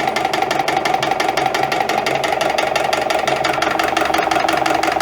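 EPKU compressor unit with worn connecting rod bushings, knocking in its cylinders before repair and throwing oil: a loud, steady, rapid mechanical knock and rattle running close and continuously, with no talk.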